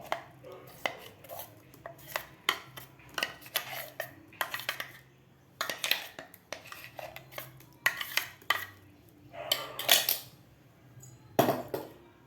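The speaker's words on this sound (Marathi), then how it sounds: "या ताटामध्ये आपल्याला हे मूग डाळीची पेस्ट काढून घ्यायची आहे." Moong dal paste is scraped out onto a plate with a utensil, giving a string of close, irregular metallic scrapes, knocks and clinks with short pauses between them.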